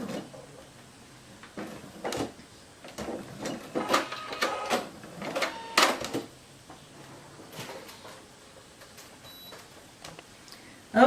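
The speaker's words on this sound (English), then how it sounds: "sew across, making sure you're using a 1/4 of an inch seam allowance" Quilt seam being stitched on a sewing machine in short, close bursts of rapid mechanical clatter separated by pauses, ending with a brief backstitch run.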